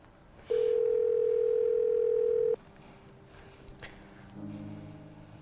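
A single long steady electronic telephone tone sounds for about two seconds, loud and close on an unanswered call, then cuts off, leaving quiet room noise and faint fainter tones afterward.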